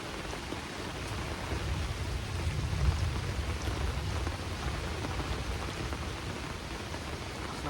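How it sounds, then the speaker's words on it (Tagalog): Heavy rain falls steadily on a campground during a storm, a dense, continuous hiss of drops on surfaces with low rumbling underneath, loud and unbroken throughout with no voices. "Malakas ang ulan."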